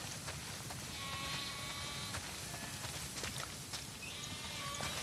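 Sheep bleat repeatedly across a farm scene in The Last of Us Part 2, with clip-clopping hooves and steady ambient game noise underneath, several overlapping calls near and moderately loud.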